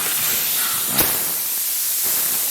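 A paint spray gun hisses in an auto body shop while brown coat goes onto a V8 S10 pickup, a loud continuous airy spray with one brief sharper burst, close and without speech.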